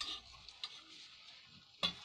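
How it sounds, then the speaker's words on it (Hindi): Spoon stirring mawa into carrot halwa in a pan, heard as soft, faint scraping with a light sizzle beneath and a sharper clink near the end. "हम इसको भी अच्छे से मिक्स कर लेंगे।"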